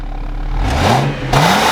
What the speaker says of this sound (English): Sounds like an air intake, cold air intake.